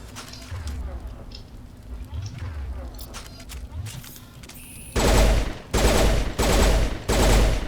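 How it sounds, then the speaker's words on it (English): Loud bursts of pistol fire in Mass Effect Legendary Edition, four heavy volleys arriving in a steady rhythm after a stretch of quieter game ambience, each burst sharp and booming. "Oh, it's a burst fire."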